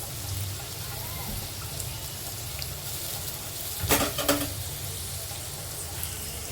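Dried Bombay duck fish sautéing in hot oil with whole spices, a steady low crackle and sizzle from the pan with a brief louder clatter of stirring partway through.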